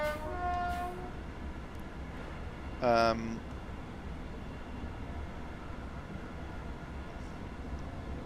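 A BR Class 801 Hitachi train on the East Coast Main Line in Train Sim World 4 rumbles along steadily, with two short horn blasts, one near the start and a louder one midway.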